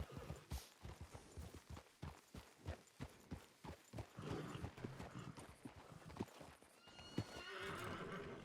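Horse in a Red Dead Redemption roleplay game, hooves clip-clopping in a quick, regular rhythm while a loud whinny breaks through near the end, all close and fairly clear.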